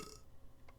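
A man lets out a single short burp, made by forcing swallowed air down his throat, quiet and close, ending in a faint trailing sound.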